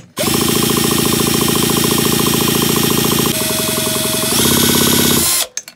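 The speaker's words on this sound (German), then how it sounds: "da brauchen wir jetzt wieder den Akkuschrauber. 13er Nuss und dann müssen wir links rum am Polrad drehen hier." Cordless drill with a 13 mm socket spins the flywheel of a Stihl MS 180 C chainsaw. Whining, rattling rotation runs loud and close for about five seconds, shifts pitch partway through, then stops abruptly.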